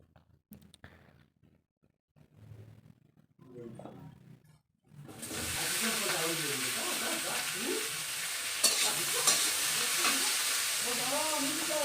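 Spices hit hot oil for a cauliflower chorchori cooked on a clay stove. A quiet start with faint talk gives way to a loud, sustained sizzle with stirring, and a voice carries over the frying.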